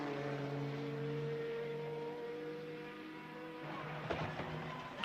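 A Porsche 962C Group C prototype, No. 58 of Jost Racing, entering the pits at Le Mans in 1991, its engine a steady droning hum with sustained tones that shift pitch, ending with a brief burst of mechanical clatter.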